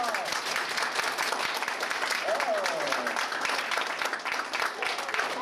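Audience applause at a storytelling performance in Allonnes, a faint, steady, dense patter of many hands with a brief voice or cheer rising through it.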